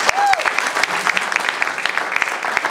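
Audience applause greeting a talented musician introduced on stage, clapping with distinct individual claps audible in a steady rhythm, fairly close and loud, with no talk over it.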